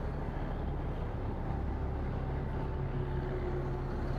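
A 2007 Freightliner M2 106 truck's diesel engine idles steadily in cold weather, a low, constant rumble with a faint hum holding evenly throughout, no voices present.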